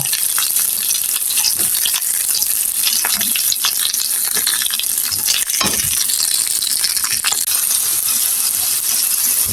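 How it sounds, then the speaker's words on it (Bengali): Shrimp fry lightly in hot oil, a steady close sizzle with crackles and occasional scraping as they are turned in the pan; no one speaks. "হালকা একটু আমি এপিট উপিট করে ভেজে নেব এটা চিংড়িটি আমি হচ্ছে হালকা ভেজে নিলাম"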